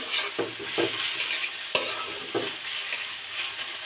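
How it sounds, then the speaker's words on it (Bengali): Boiled fish-tail mash stir-frying in hot oil for a Bangladeshi hotel-style bhorta: a steady close sizzle with repeated spatula scrapes and one sharp clack, no voices. "এখন শুরু তেল সাথে ভালো মতো ভাজি করে নিতে হবে"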